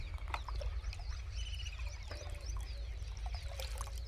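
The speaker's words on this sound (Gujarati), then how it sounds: "તો આપણે પાણી ભરી દઈએ" Water trickles and pours into a clay bird-water bowl outdoors on a farm, a faint, continuous splash with low rumbling background noise and occasional bird chirps.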